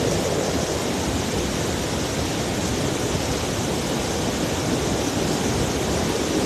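A strong river current rushes past in a dense, unbroken roar of water, loud and steady throughout with no voices.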